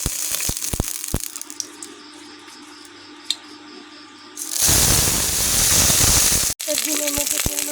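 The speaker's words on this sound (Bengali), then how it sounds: "তেল গরম হয়ে গেছে, এখন আমি ডিমগুলো দিয়ে দিব ভাজার জন্য।" Eggs hitting hot soybean oil in a wok, first quiet clicks and clatter, then a sudden loud, bright sizzling hiss that bursts in and keeps crackling steadily, close up.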